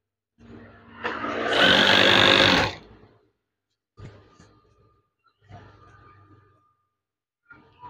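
A sewing machine stitches a curtain seam through to the end of the fabric in one steady two-second run, followed by a few faint, brief handling sounds.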